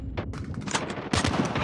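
Rapid gunfire from the video game Call of Duty comes in dense, close bursts of automatic shots and sharp cracks that fill the whole moment.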